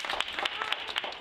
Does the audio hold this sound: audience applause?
yes